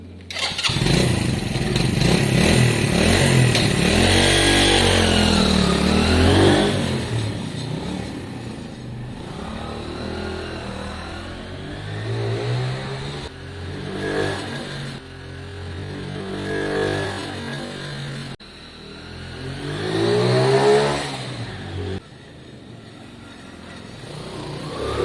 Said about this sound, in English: if the carbon bike is doing its basics of running up and down